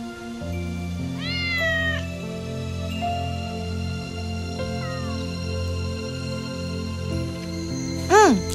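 A family's pet cat meows several times, a drawn-out call early on, a shorter one midway and a sharp final meow, over a steady low background bed of sound.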